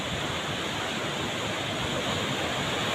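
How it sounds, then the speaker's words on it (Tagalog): Big ocean waves near a rocky island make a continuous broad roar of surf, steady and fairly distant, with no voices over it. "Malaki ng alon guys, oh."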